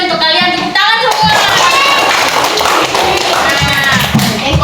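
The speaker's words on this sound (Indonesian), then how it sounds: "Tepuk tangan semua." An Indonesian primary school class claps their hands together on cue from the teacher, a lively burst of many small hands with sharp taps, while children's voices chatter underneath throughout.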